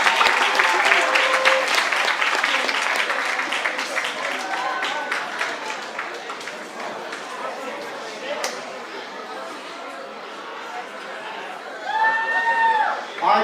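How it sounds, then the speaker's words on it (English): Audience applauding at a high school sports awards ceremony, sustained dense clapping that gradually thins over several seconds, with crowd chatter and a few voices underneath, then a brief swell of cheering near the end. "So please clap it up for them."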